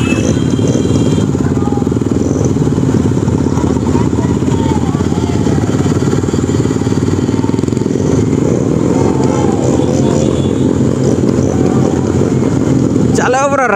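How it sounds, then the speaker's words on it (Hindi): A Royal Enfield Bullet motorcycle with a cracked silencer rides past with a loud, continuous engine drone, rough popping exhaust texture throughout, and a sharp burst near the end. "हम सब बुलेट बुलेट साउंड सब पट पट पट पट"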